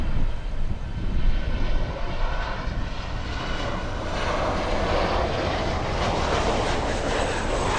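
A Boeing 747 jet roars steadily on arrival at Miami International Airport, a loud continuous engine rumble and broadband whine that holds throughout without talk.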